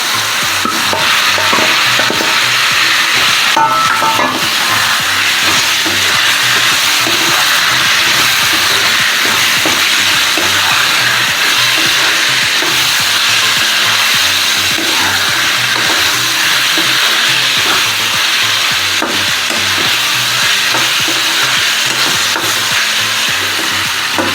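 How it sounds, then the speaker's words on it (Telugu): Chicken tipped into a pan for semi gravy sizzles loudly, and a spoon keeps stirring and scraping through the mix the whole time. "ఇప్పుడు ఇందులోకి మనం ముందుగా సిద్ధం చేసుకున్న చికెన్ని వేయాలి"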